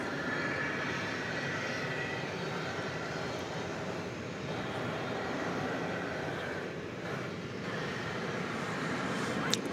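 A United airliner in the older livery with a golden tail, a 24-year-old jet arriving from Denver, lands at DFW Airport at night, its steady broadband engine roar filling the air at moderate distance with no talk.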